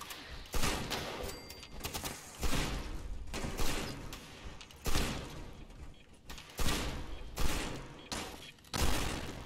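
Gunfire in the video game Fallout 76: repeated loud bursts of shots roughly every second or two, each with a booming, echoing tail, continuing throughout without talk.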